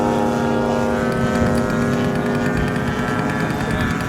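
Model airplane engines run on a warm day, a loud, steady, buzzing whine with strong harmonics that holds constant throughout, with voices talking faintly under it.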